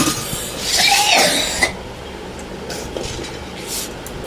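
One person coughs in a home at mealtime: a single raspy burst of coughing up close, followed by quiet room noise with faint clatter and no talking.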